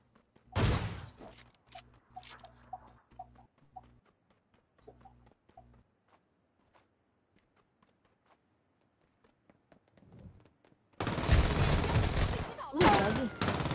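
Video game gunfire in a combat shooter: sparse shots and short bursts near the start, a quiet stretch with a few faint pops, then a loud dense fusillade of rapid fire at the end.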